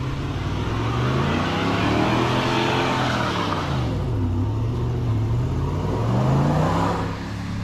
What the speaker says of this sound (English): Pickup truck just did a little smoke show